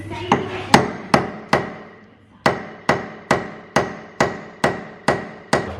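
A hammer strikes metal while knocking a part out of a car differential on an AU Falcon, about a dozen sharp ringing blows in a steady rhythm after a short pause, close and loud.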